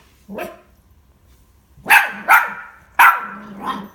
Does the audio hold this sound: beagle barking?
yes